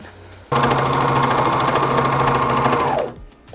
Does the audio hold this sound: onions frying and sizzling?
no